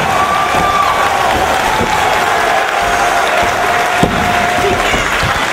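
A wrestling crowd at the Murphy Recreation Center applauds and cheers after a quick run of reversals, a loud steady roar of clapping and shouts with one sharp thud near the end.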